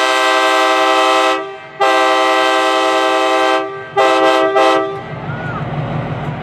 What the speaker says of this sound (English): Well, it's the horn, but yes, we'll blow it.